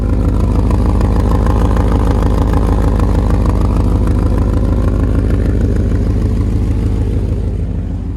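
A loud, rough engine of a 1980 Chevrolet Bel Air wagon idles and rumbles close by, its raspy, uneven exhaust note from a brand-new muffler drilled full of holes steady throughout with no talking.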